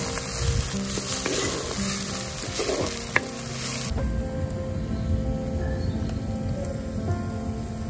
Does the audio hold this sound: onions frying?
yes